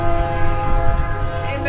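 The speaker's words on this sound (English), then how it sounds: "in the train station." Inside a train station, a train's horn blares loud and sustained with a steady tone over the rumble of the station, filling the full short stretch.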